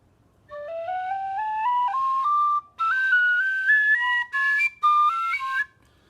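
A Clarke Original tin whistle in D plays a rising run of clear, bright notes, stepping steadily upward in short phrases with brief breath gaps, close and fairly loud, with no voices.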